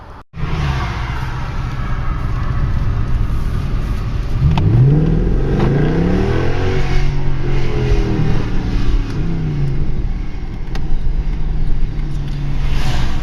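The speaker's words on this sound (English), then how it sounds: "Savage acceleration. This car is completely different when it goes into sport mode." A Mercedes C63 accelerates hard in sport mode, its engine loud and close with a rising, sustained roar that climbs through the revs for over ten seconds with no talking.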